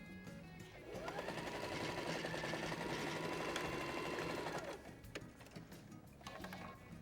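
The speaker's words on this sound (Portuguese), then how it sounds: "colocar a alcinha de um dos lados e aí passa a costura tudo junto" Sewing machine stitching a pencil case strap together with its lining, a fast steady mechanical whirr running continuously for several seconds, close and clear, then stopping, with faint handling sounds afterward.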